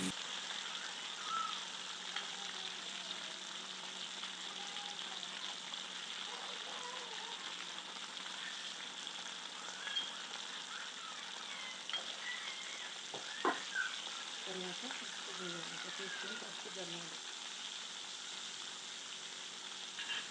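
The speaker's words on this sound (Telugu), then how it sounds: "5 నిమిషాలు స్టవ్ని హై ఫ్లేమ్లో ఉంచి వేగనివ్వాలి." Tomatoes and green chilies fry on high flame for tomato tasska, giving a steady, faint sizzle that continues throughout, with a few soft clicks and stirring scrapes later on.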